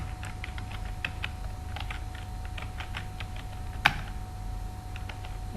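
Typing on a computer keyboard sounds as a run of light, quick key clicks in an uneven rhythm over a low steady hum, close by, with one sharper tap standing out near the end.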